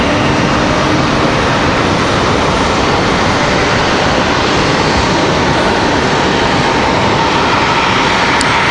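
A CRJ regional jet departs Raleigh-Durham International, a loud sustained engine roar with broadband rumble holding steady throughout, heard from near the airport with no talking.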